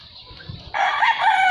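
A Hulse Grey Hatch cross gamefowl rooster crows loudly and close on a farm, one long sustained cock-a-doodle-doo that starts abruptly after a brief quiet moment and carries to the end.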